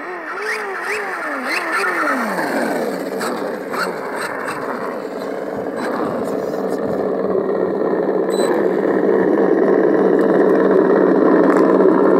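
An RC car's sound module imitates a V8 big-block engine idling in a 1:10 Reely Dune Fighter buggy. It gives a steady, loud, rumbling idle that starts with a few throaty revs and holds an even drone throughout.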